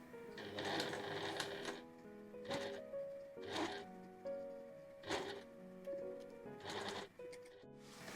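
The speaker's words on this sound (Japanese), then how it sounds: "こちらを見ながら目打ちで整えながらギャザーの上を縫っていきます" Domestic sewing machine stitching over the gathers of a dress, running in short bursts of about a second, separated by brief pauses, with a rapid close mechanical whir.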